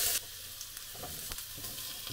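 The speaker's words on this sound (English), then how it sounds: "stir fry the paprika." Paprika is stir fried in a pan, giving a faint, close, steady sizzle with a few soft scrapes and clicks from stirring and no voices.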